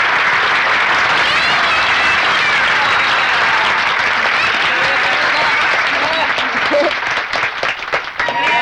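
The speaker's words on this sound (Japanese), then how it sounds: "ヘムレンさんに感謝の拍手を送ろうではありませんか" A crowd applauds Hemulen in a 1972 Moomin animated episode, dense sustained clapping that stays loud and even, then thins into scattered claps near the end with voices mixed in.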